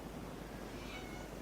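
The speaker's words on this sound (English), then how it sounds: "And look, my cat has arrived" A domestic cat meowing, a faint, short vocal cry standing out against quiet room background, with no talk over it.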